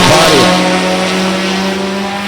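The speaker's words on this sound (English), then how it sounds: "It's a 400 cubic inch Pontiac V8. Car has to have a unique set of headers on it because it sounds completely different." A drag race car with a 400 cubic inch Pontiac V8 and unusual headers roars loudly at a Beech Bend Raceway Park NHRA event, a steady, raspy engine drone held close and dominant throughout.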